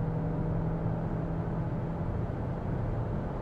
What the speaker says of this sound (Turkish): Motor bağırıyor.